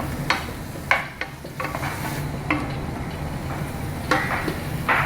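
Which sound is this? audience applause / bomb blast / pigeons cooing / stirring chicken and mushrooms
stirring chicken and mushrooms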